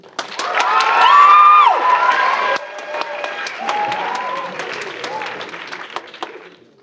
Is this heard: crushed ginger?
no